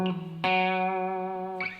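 Electric guitar with distortion plays a short bluesy phrase, a couple of picked attacks followed by a long sustained ringing note and a final strike, played alone.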